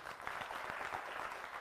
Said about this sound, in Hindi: हमारे शब्दों से सेटिस्फाइड हो तो ताली बजाइए